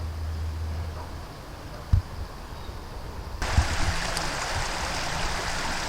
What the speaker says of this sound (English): now the River Goyt is right beside us